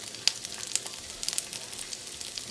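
Asparagus frying in a pan, a soft steady sizzle with scattered crackles and pops, close and fairly quiet, no talking.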